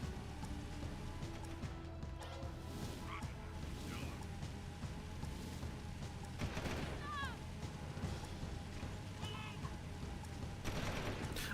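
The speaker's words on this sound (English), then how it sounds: "That turret just shot a guard." A turret opens fire on a guard in the video game Jak II, with bursts of distant rapid gunfire layered over game music and ambient noise, fairly quiet overall.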